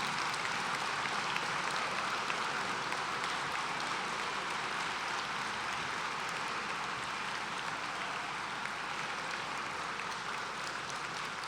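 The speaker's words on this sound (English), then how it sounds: "let's stand up and give Colonel Leonard a round of applause for his years of service" Sustained applause from a standing audience at a graduation ceremony, a broad, even wash of many hands clapping that sounds almost like heavy rain and holds steady throughout.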